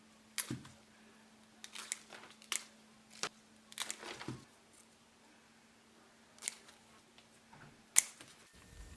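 Quiet, sparse snips of shears cutting rose stems for a garland, a handful of short sharp clicks spaced irregularly against a faint steady hum, with no talking.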